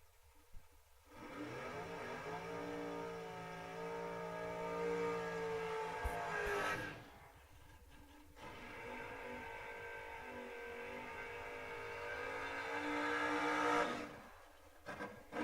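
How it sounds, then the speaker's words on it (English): Drag racing door cars launch down the strip one after another, each engine building to a loud roaring rev that swells and then cuts off, with short quieter gaps between the runs. "Couple of door cars going to kick us off here."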